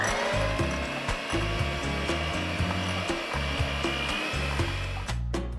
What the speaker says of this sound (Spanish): ya tengo la mantequilla bien batida y esponjosa